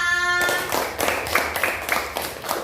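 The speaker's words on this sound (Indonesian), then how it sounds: "kita beri tepuk tangan untuk kelompok A" A group applauds a team of students in a university classroom session, a fairly dense run of hand claps that starts abruptly after a sustained tone and continues steadily close by.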